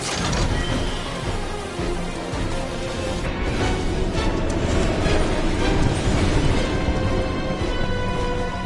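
Mechanical rumbling and creaking of a train running in a PS4 video game, a steady, loud, dense clatter lasting throughout with faint voices beneath.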